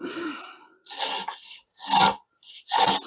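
A cheap block plane scrapes across wood in three harsh rasping strokes, each about half a second long with short silent gaps between, close and loud, with no talking.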